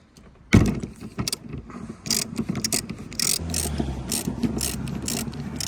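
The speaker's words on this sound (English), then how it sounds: "Go ahead and remove your 30mm wiper bolt." Ratchet clicking as it loosens the 30mm rear wiper arm bolt on a Volkswagen Polo 9N, a close burst of rapid mechanical ticks and metallic handling noise with no talking.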